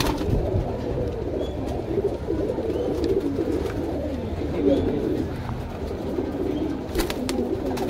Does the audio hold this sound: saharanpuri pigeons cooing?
yes